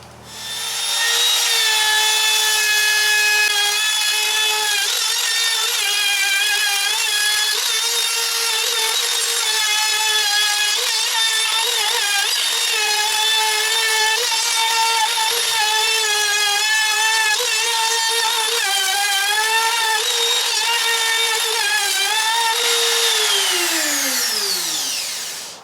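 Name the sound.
power tool trimming Filon fiberglass panel on teardrop trailer wall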